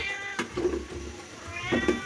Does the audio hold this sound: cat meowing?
yes